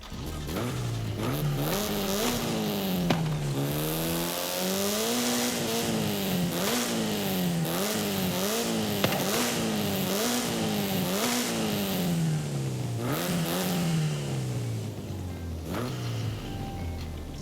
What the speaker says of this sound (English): let's go ahead now and listen to how this M3 sounds